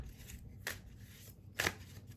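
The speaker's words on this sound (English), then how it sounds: "Turn the camera down just so you can see how I lay out the cards." Tarot cards being laid out on a table, two soft brushing card slides close by in a quiet room.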